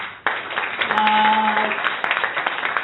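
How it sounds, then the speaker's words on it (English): Applause from an audience at a pitch and networking event for coworking spaces, a dense steady wash of clapping that swells after a sharp onset and carries on through the whole stretch, with faint tones and possible murmurs mixed in. "for Trifon Mikhailov, big applause"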